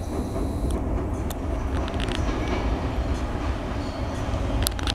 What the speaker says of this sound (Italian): Ed ecco che arriva il treno.